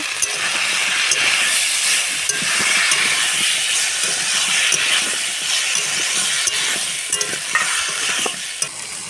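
Ash gourd and potato with salt being stir-fried in a pan, a loud continuous sizzle and steam hiss with constant scraping, clicking stirring strokes, close up.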